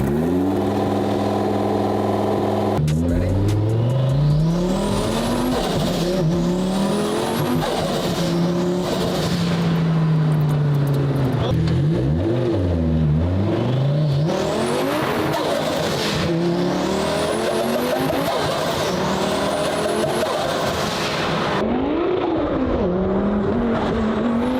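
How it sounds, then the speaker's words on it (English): A twin-turbo Lamborghini V10 in a lightweight kit car revs hard and loud, climbing through repeated rising pulls and gear changes with dips between them, snarling and whooshing close by over a long sustained run. "with a twin-turbo Lamborghini V10 in it. And the sound is genuinely one of the best things I've ever heard in my life"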